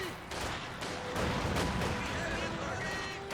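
A ZiS anti-tank gun firing in the Company of Heroes 2 battle game, with booming artillery-like blasts amid a dense wash of battlefield noise.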